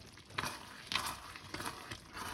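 Sausage and bacon pasta stirred in a pan, a soft scraping and gentle sizzle with a few louder scrapes as the spoon lifts sticking pasta off the bottom, close and steady with no talking.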